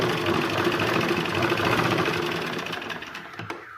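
Electric sewing machine stitching a lining onto blouse fabric, running in a steady fast whirring hum that slows and fades toward the end, with a few light clicks as it stops.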